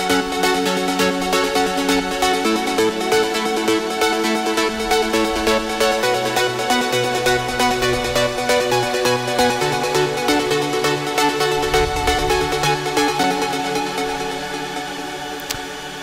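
A bright, bouncy synthesizer melody repeats over a steady backing, playing continuously and fading slightly at the end.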